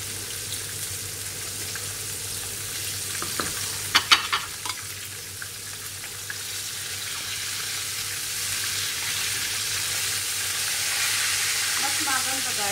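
Fish sizzling as it fries in a pan with lemon, seasoning and salt, a steady hiss with a few sharper crackles and spits near the start.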